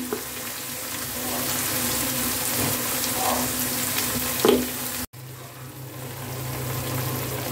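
Homemade red chili masala fries in oil for Kolhapuri misal, a steady close sizzle with occasional stirring scrapes, briefly cutting out before the frying continues more softly.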